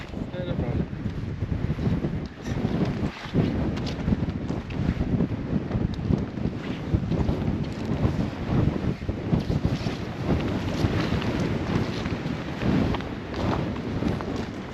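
Strong wind buffets the microphone with a steady low rumble, gusting throughout, with water and a boat's motion beneath, while fly fishing for trout on a spring creek in Patagonia.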